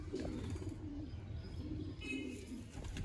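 Sialkoti pigeons coo in low, soft, repeated rolling calls, steady and close but fairly quiet, with no voices over them.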